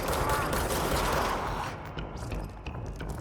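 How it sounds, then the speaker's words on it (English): Gunfire from the action video game Control, a dense burst of rapid shots filling the first second and a half, then lighter scattered shots and mechanical clatter at moderate loudness, with no talk. "Gunshot sounds are too loud"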